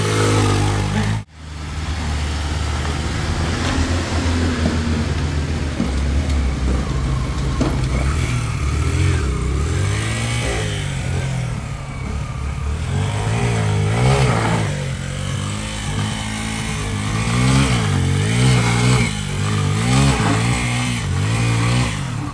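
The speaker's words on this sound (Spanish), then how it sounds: "Ahí viene una moto." Off-road motor vehicle climbing a steep dirt trail toward Chorro Blanco in Chalatenango, El Salvador, heard as a loud, close, continuous engine drone with rising and falling revs for over twenty seconds, no talk over it.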